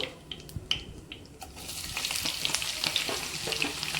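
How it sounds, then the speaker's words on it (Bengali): Chopped onions hit hot oil with bay leaf and whole spices for Kolkata-style chicken biryani, the sizzle starting thin and uneven, then rising into a fuller, steady frying hiss up close. "পেঁয়াজ কুচনো দিয়ে দিলাম এবার আমি পেঁয়াজটা একটু বাদামি বাদামি করে ভেজে নেব"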